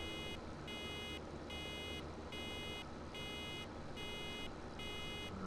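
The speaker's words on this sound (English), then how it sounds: "When the alarm stops" A baler-full alarm in Farming Simulator 17 sounds as a string of evenly spaced, high, electronic beeps that repeat steadily over a constant engine rumble.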